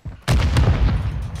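A grenade goes off in a multiplayer shooter game, a sudden loud blast followed by a rolling low rumble that lingers for about a second.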